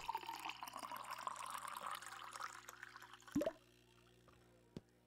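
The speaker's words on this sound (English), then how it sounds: "assuming the kettle wants to fill up quickly" In the coffee-shop game Barista Sim, a kettle fills with water, giving a steady running pour that rises in pitch, then stops, followed by a couple of short clicks and a faint drip.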